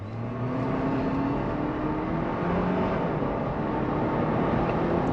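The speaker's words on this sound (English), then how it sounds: "Let's go get it to the sport mode to see how the acceleration goes." A GWM Tank 500 Ultra hybrid SUV, a 255 kW 4x4, accelerates in sport mode, with a steady engine drone whose pitch climbs smoothly and continuously, loud and close, with no voices.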